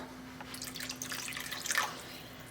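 Water pours and splashes into a pan of frying tomato sauce for shakshuka for a couple of seconds, a steady close hiss and trickle with no talking.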